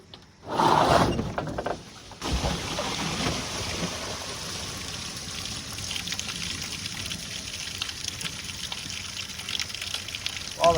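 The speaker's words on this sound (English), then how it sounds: "All that water just came out right on the seat" Water gushing out onto the seat of a 1980 Chevy K30 squarebody truck, a loud splash at the start followed by a steady trickling stream that carries on to the end.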